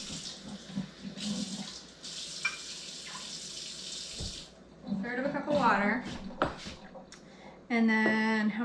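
Tap water runs into a measuring cup in a home kitchen, a brief hissing stream amid clinks and handling noises, with a person talking nearby.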